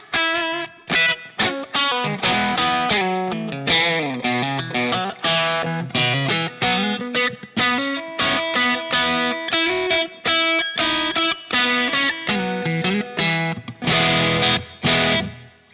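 Electric guitar played through a Line 6 POD HD500 modelling a Vox AC-15 Class A amp with sag set to 0, giving a driven tone with busy picked notes and chords that ring close and loud for about sixteen seconds.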